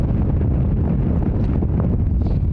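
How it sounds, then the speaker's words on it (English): Strong wind sweeps across a Nordic island, buffeting the microphone with a loud, continuous low roar and rumble and no pauses. "the wind is really picking up"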